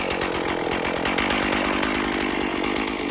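A chainsaw cuts through a cedar log, running loud and steady at close range with a constant high-revving buzz for the whole stretch and no talking over it.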